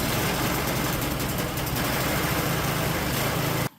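Small snowblower engine running steadily and close, a dense, unbroken mechanical drone that stops abruptly at the end as it dies, with no talk.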